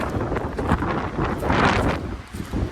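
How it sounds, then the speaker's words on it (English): Gusty wind buffets the microphone in loud, rumbling waves at Kirkpatrick Cemetery in Rewey, Wisconsin, no voices present. "it's pretty windy around here"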